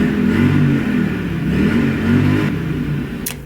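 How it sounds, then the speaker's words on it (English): A car engine revs in rising and falling surges, a loud, close rumble with no voices. "Someone's revving their car."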